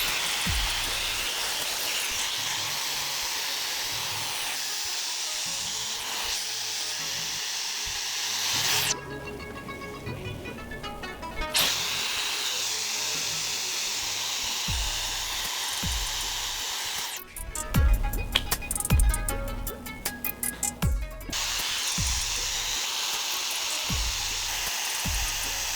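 Shark FlexStyle hair styler blowing air on high heat and high fan, a constant hissing rush throughout, broken by a couple of brief harsher bursts of louder, textured airflow.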